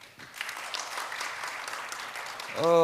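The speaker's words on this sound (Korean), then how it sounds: "박수로 환영해 주시기 바랍니다" Audience applause welcoming a panelist at a marine biotechnology forum session, a soft, continuous wash of many hands clapping at moderate distance, cut off at the end by a speaking voice.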